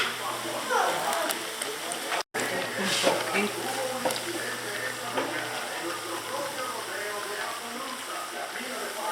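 Green plantains sizzle steadily in hot oil for frito verde, a soft, continuous crackle like light rain with a voice talking over it.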